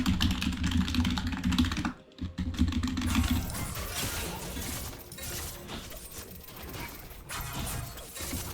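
Rapid clatter of keys on a computer keyboard during a ranked online game, close and busy, with a brief pause before the tapping resumes at a steadier pace.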